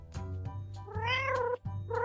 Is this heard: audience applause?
no